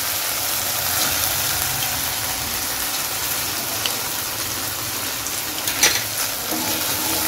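Green chilli and poppy seed paste frying in a pan for a paneer dish, a steady, even sizzle throughout with a brief stir or scrape near the end, close and alone without talk.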